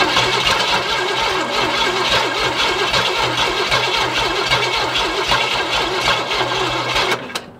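A Cadillac 500 engine, revived after sitting for decades, runs loud and close with a rapid, uneven mechanical chatter throughout, then cuts off abruptly near the end.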